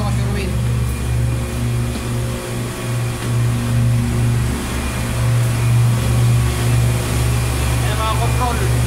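Large motors on a ship drone with a steady, loud hum and deep pulsing tones in a hot enclosed space below deck, with faint voices under the mechanical noise.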